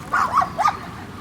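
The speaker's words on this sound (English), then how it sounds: "There's one dog that's not afraid of lightning right now." A dog barks outdoors during a youth baseball game as lightning threatens, three quick mid-pitched barks at moderate distance, clear above faint background noise.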